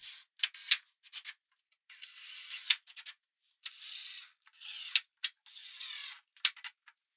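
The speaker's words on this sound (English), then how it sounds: "I'll start by screwing down the aprons using the original screw holes as a reference." Screws driven into the original holes while fastening the aprons of an old salvaged table, heard as short scraping, rubbing bursts with brief pauses, close but quiet with no voices.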